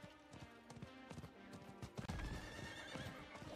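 A horse in the video game Diablo IV neighs and whinnies over steady clip-clopping hooves, set against dense game music and effects, with no speech.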